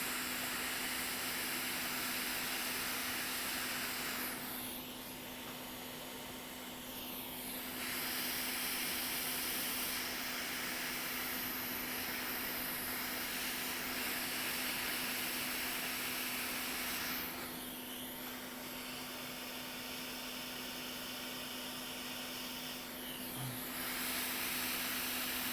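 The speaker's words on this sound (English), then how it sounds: "Oh, I'm hitting the fume extractor with my Hot Air wand." Fume extractor fan running at an electronics repair bench, a faint steady hiss and hum, with two longer bursts of rushing air from a hot air rework wand blowing close by.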